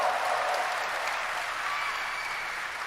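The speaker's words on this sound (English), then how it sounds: "Wow, what a great crowd." Audience applauding at a Gamescom event in Germany, a dense, sustained wash of clapping from a large crowd, loud and steady throughout, tapering only slightly.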